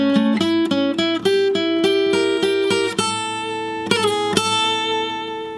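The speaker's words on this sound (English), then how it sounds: "There I like to throw in a nice gypsy lick." Quick gypsy-style lead lick on guitar in a song lesson, a run of fast, clearly picked single notes moving up and down, with a few accented stabs near the end, played alone and loud.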